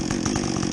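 A Husqvarna 562XP chainsaw with a modified muffler bucks a recently felled tree, its engine running at a steady, loud, raspy high pitch with a fast rhythmic buzz throughout.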